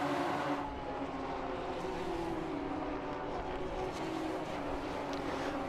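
Radical SR3 race cars at Silverstone's Cox Corner roar past with a steady, sustained engine drone at moderate distance, with no talking.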